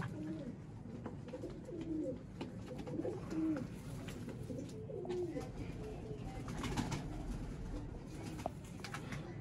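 Several Sialkoti pigeons coo in low, throaty murmurs over a constant background hum, with soft overlapping calls throughout.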